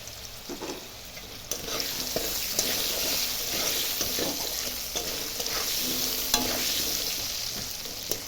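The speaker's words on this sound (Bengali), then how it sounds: "আলুগুলো একটু ভাজা ভাজা হালকা করে নিয়ে তারপরে বেগুনটা দেবো।" Potato pieces seasoned with salt and turmeric fry in a pan for a hilsa curry, producing a loud, continuous close sizzle dotted with repeated clicks and scrapes of stirring throughout.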